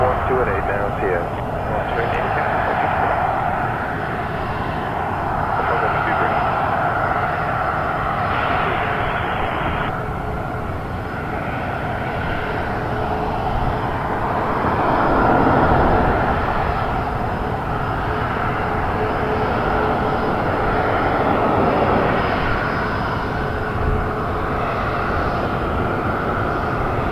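A jet airliner rolls for takeoff at Toronto Pearson Airport, its engines making a steady broad roar that swells slightly mid-way, with radio voices talking over it throughout.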